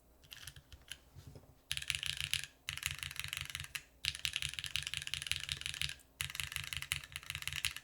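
Fast typing on a Tiga mechanical keyboard with GMK keycaps, producing dense, full-sounding clacks in close bursts separated by brief pauses, steady and near, with no talking.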